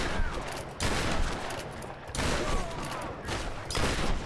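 Shotgun blasts from the Tomb Raider video game, several heavy bursts in quick succession with short gaps, loud and close, without voices over them.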